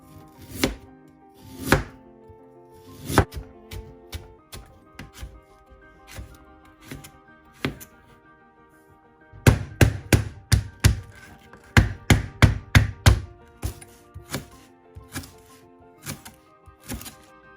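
A knife chopping milkfish (bangus) into large pieces on a cutting board: sharp, close thuds in irregular bursts, slow single strikes early, then quick clustered runs of chops, with quiet gaps between.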